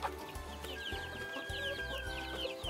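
A hen and her chick clucking inside a backyard chicken coop, with soft repeated clucks and small chirps over low, steady background noise.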